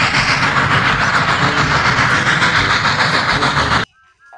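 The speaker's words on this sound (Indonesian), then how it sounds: "kita mendapatkan kereta api Thomas teman-teman." A steady, loud rattling rumble of a small Thomas toy train running continuously, then it abruptly stops, leaving near silence with a faint tone.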